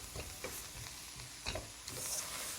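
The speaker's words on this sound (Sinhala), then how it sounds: "ඊළඟට මම මේකට තක්කාලි ටික එකතු කරගන්නවා." Tomatoes are stirred in a frying pan, giving a faint steady sizzle with scraping stirs at intervals, heard close and quiet with no talk.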